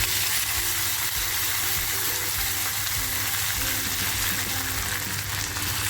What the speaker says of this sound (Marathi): त्याच्यातच थोडंसं तेल टाकते अगोदर थोडी अद्रक लसूणची पेस्ट टाकते